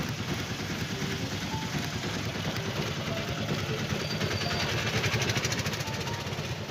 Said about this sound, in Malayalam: കൊണ്ടുവന്ന വാഹനം പിയാജിയുടെ പുതിയ മോഡൽ ആപ്പയാണ്.